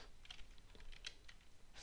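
Quiet, irregular clicking of a computer keyboard as someone types code in Python: soft, close keystrokes in short bursts with no voices.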